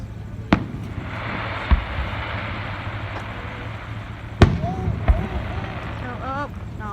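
Fourth of July fireworks show in Palm Springs, with several sharp booms spaced out over a steady crowd murmur, a couple of whistling rising trails near the end, and voices talking underneath.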